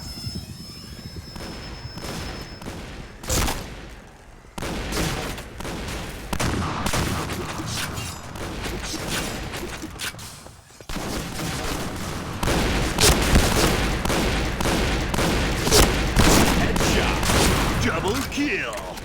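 Shotgun blasts in the video game Point Blank, repeated heavy booms in quick bursts over a dense, loud game soundscape with brief lulls between volleys.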